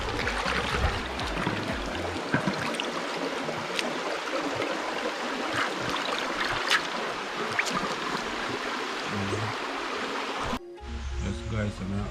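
Running water splashes steadily as peas are rinsed off for a curry of octopus, conch and gungo peas, a continuous close trickle and wash that cuts out abruptly near the end.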